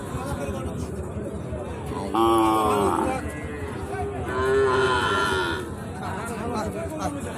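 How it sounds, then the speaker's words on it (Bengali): Cattle at a busy livestock market with Sahiwal bulls and calves moo loudly twice, each a drawn-out low call rising over steady crowd chatter and talking. "প্রচুর পরিমাণে গরু কিন্তু ঢুকতে আছে এখন পর্যন্ত"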